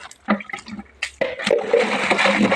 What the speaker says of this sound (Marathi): येतं पाणी खाली.